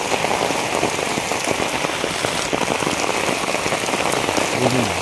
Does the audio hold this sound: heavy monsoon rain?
yes